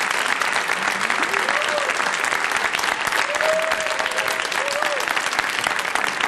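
A studio audience claps and cheers loudly and continuously for a rapper on a reality show, with a few whoops and voices rising above the applause.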